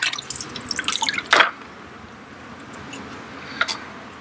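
Water splashes and trickles from a bucket while priming an outboard water pump, with a few short bursts of pouring and splashing followed by quiet, scattered drips.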